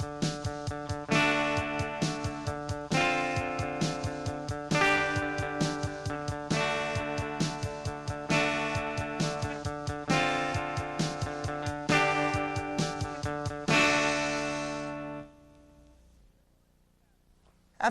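A drum beat with a steady kick and snare pulse backs a loud distorted rock guitar playing a repeating chord pattern. The hits are even and rhythmic for about fifteen seconds before the sound cuts to near silence.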